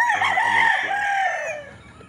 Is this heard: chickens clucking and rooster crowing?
yes